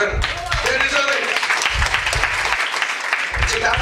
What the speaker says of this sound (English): hand of applause for them